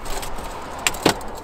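Car keys lifted from the glove compartment of a CityBee rental car give a faint jingle with two short, sharp clinks over quiet in-car background noise.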